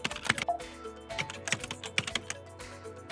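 Typing a photo caption on a computer keyboard: soft, close key taps in an uneven quick rhythm, with a few short pauses, quiet and without talking.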